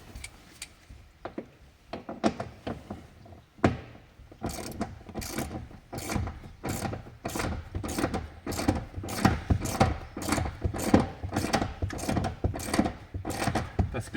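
A hand ratchet loosening the two 10 mm nuts holding a seat in a Peugeot 205, first a few scattered clicks, then a long steady run of sharp, close, rhythmic ratcheting strokes.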